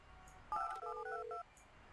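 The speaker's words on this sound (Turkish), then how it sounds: "Telefon." Telephone keypad tones from the building-management game Project Highrise: a short run of about six clean DTMF beeps in quick succession, fairly loud and with no voices.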